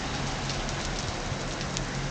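Heavy rain falls outdoors in Puebla, Mexico, a constant close hiss of drops pattering on surfaces with no pauses and no voices.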